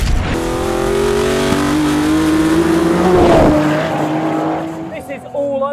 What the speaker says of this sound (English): Amazing noise, drama, V12, excitement, response, and a manual gearbox.